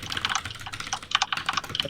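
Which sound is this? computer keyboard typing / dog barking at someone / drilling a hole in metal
computer keyboard typing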